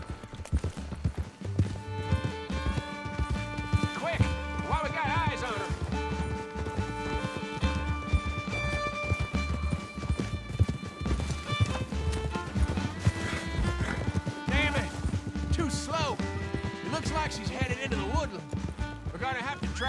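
Horse hooves gallop in Red Dead Redemption 2, a quick steady clip-clop beat that runs the whole time under loud game music, with a brief whinny and a voice now and then.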